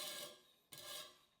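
A knife blade drawn across the stone of a TSPROF Pioneer guided sharpening system, two quiet raspy strokes in quick succession, close and faint.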